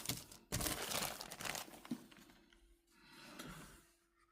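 Protective film is peeled off a SCUF Instinct Pro wireless Xbox controller, giving close, faint crinkling and tearing in a few bursts, then softer rustles.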